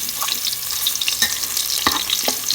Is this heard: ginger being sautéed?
yes